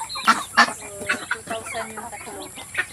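Chickens and roosters cluck and chatter close by in a lively backyard poultry flock, with short squawks rising over the steady murmur of birds.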